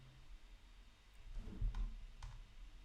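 A single faint mouse click on a preview button in a store dashboard, a soft brief tick over quiet room noise with no one speaking.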